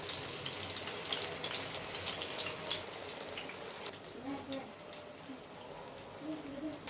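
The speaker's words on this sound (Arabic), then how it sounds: "بندي كمان الفلفل تحميره خفيفه كده مع البدنجان" Eggplant and peppers fry in hot oil, giving a steady, close sizzling hiss with small crackles and pops that carries on without a break.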